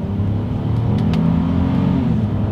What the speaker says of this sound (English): let's see how quickly these paddle shifters are going to react for us here